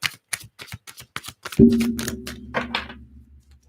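A rapid run of crisp card clicks, like a tarot deck being riffled close up, followed by a resonant thud and a few softer flicks.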